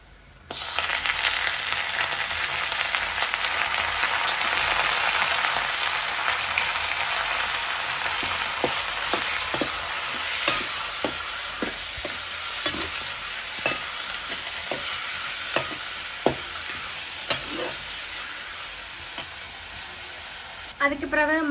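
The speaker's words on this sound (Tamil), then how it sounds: "சிக்கனை போட போகிறோம்." Chicken pieces and onions sizzling loudly in oil in a pan, a dense bright hiss with repeated scraping stir strokes near the end, close and forceful.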